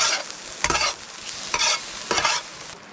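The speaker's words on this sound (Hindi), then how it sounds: "इसको हम अब धनिया डाल के इसको थोड़ा सा मिक्स कर लेते हैं।" Lahori taka-tak with coriander is stirred on a sizzling pan, with four distinct scraping stir strokes rising over a steady close sizzle.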